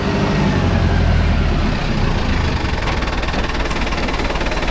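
A Mahindra Arjun Novo 605 S tractor engine labors steadily while driving a rotavator, a loud, close, rough diesel rumble with knocking texture and no letup.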